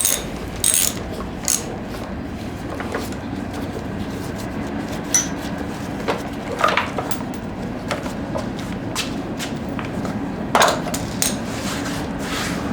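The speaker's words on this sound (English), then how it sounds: "So we've got a 9/16 socket and a 3/8 ratchet, and just gonna go ahead and take off the center nut." A 3/8 ratchet with a 9/16 socket loosening the center nut on a lawn mower wheel, with bursts of quick ratcheting clicks spread across a steady background, faint bird calls, no speech.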